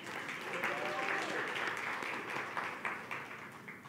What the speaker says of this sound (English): Can we clap for Cindy?